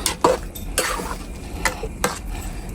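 Biryani with two kinds of meat and rice is mixed by hand in a cooking pot, giving several soft, irregular squelching stirs and scraping clatters, close up and moderately loud.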